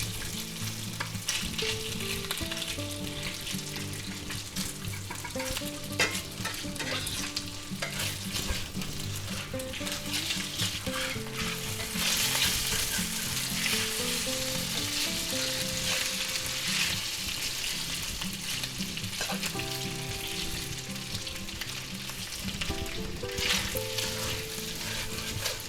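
Chicken pieces stir-fry in oil in a pan for a chicken, broccoli and mushroom dish, a loud continuous sizzle with a spatula scraping and tossing now and then throughout.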